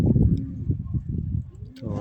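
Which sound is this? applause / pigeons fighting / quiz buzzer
pigeons fighting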